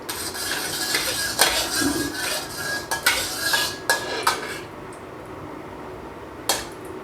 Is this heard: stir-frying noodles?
yes